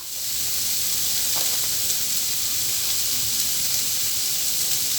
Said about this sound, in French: On va faire les carottes, sauter les carottes à la poêle un petit peu.